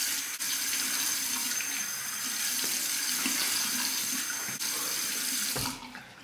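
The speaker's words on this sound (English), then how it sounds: "I'll fill up my marble cup with some hot water" Hot water runs steadily from a tap into a marble shaving cup for a straight razor shave, a loud continuous rush that cuts off near the end.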